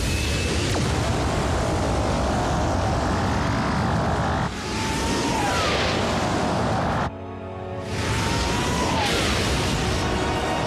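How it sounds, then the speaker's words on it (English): A Transformers cartoon thruster burn roars as a loud, dense jet-like blast with rising whooshing sweeps, briefly cutting out before surging again. "Full thruster burn."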